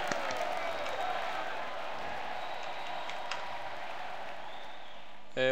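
Dense, steady applause fills a World of Warcraft scene, with crowd noise throughout and a brief louder burst right at the end.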